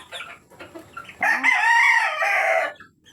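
A Rhode Island Red rooster crows loudly and close by in one long, strained call, preceded by a few soft clucks.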